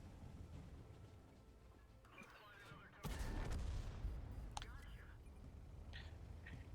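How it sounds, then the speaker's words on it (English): A tank cannon fires in World of Tanks at an enemy Bat Chat on the Prokhorovka map, one sudden loud blast followed by a rumbling tail and smaller impact sounds, with faint game ambience before it. "Now you're going to see an amazing damaging shot that I'm going to do on that bat chat."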